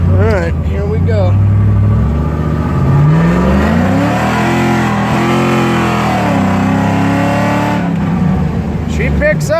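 An LS-swapped third-generation Chevrolet Camaro revs hard as it accelerates, its engine note climbing and dipping through the gears, loud and close throughout the drive.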